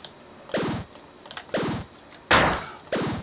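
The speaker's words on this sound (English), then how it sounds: "I have these fabulous weapons here, like this saw gun" Saw gun weapon repeatedly firing in a GameMaker Studio 2 game, four sharp bursts about a second apart, each a loud impact with a decaying ring, one harsher and brighter than the rest, with faint clicks between.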